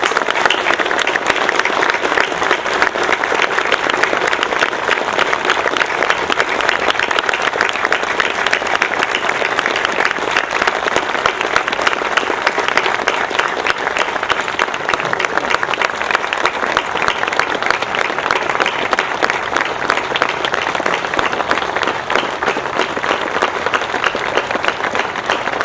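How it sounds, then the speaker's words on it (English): An audience at a September 11 patriotic concert in Stevens Point applauds community heroes and military service members: dense, steady clapping from a large crowd that holds at full strength for nearly half a minute without a break. "please give all of our community heroes and those who are serving us a round of applause"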